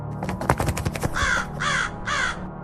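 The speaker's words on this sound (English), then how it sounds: "Raven hopped down from the tree with a sharp croak" Harsh croaking calls from a raven in a silent setting, three or so loud rasping caws in quick succession after some faint rustling, close and clear with no voices.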